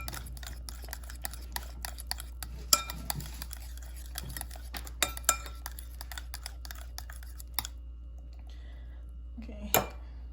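A fork mixes olive oil into banana bread batter in a bowl, giving faint, irregular taps and clinks against the bowl over a quiet, steady background.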